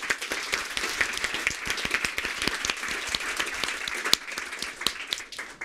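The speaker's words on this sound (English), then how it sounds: "So a round of applause for our panel." Audience applause for a panel at a 2018 discussion event, a steady burst of many hands clapping for about five seconds, fairly close and moderately loud, tapering off at the end.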